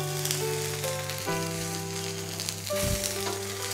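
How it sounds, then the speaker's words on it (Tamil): Lunch box food frying in a generous amount of oil in a pan, giving a steady close sizzle that runs throughout with faint crackles and tonal background hum, no talking. "கொஞ்சம் நிறைய எண்ணெய் ஊற்றினீங்கன்னா நல்லா டேஸ்டியாக இருக்கும், நல்லா மொறுமொறுன்னு வரும்."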